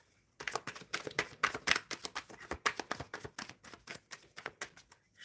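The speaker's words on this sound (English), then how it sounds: "Shuffling for Dextrose." Tarot cards shuffled by hand during a live reading, a steady run of crisp, quick riffling snaps and slaps, close and fairly quiet, with no talking.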